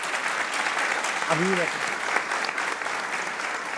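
A dense crowd at a Pakistan versus England cricket show claps steadily and loudly throughout, with a brief spoken voice rising over the applause.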